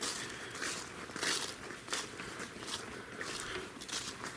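Soft, crunchy footsteps on dry ground or leaves during a muzzleloader deer hunt, quiet and close, with an irregular walking rhythm and no talking.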